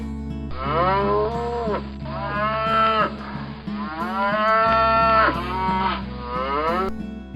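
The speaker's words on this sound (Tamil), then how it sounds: "மாடு." A cow moos several times in a row, long drawn-out lowing calls that rise and fall, loud and close, with short pauses between them over a steady low hum.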